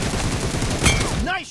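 Gunfire in a mobile team deathmatch shooter played on a Poco X6 Pro phone at 90fps, a dense burst of shots with one sharp crack near the middle, followed by rising and falling synthetic game tones.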